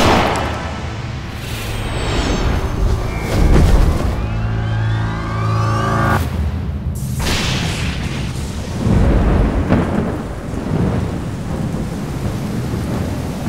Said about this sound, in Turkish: Nereden çıktı bu yağmur? Akşam üstü yağacak demişlerdi.